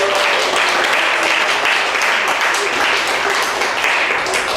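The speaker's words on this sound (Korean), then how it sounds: "우리 오늘 이 자리에 있는 유초동부 친구들을 위해서 한번 박수로 격려하고 칭찬해 줬으면" A church congregation at a Sunday service claps for the young children, a dense, even wash of applause that holds for several seconds, with speech faintly mixed in.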